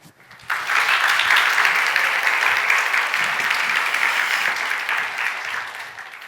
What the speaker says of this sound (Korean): 우리 나오실 때 박수로 또 우리 맞이하면서 목사님 우리 힘을 실어드리도록 하겠습니다